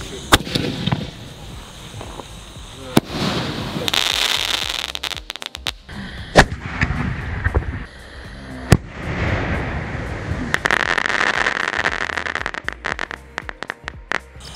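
Diwali sky-shot fireworks, a Pluto shell, go off in a rapid string of sharp cracks and bangs with hissing, crackling bursts between them. The blasts sound loud and close, and a few voices are heard faintly.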